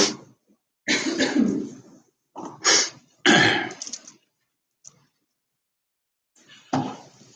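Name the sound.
nose blowing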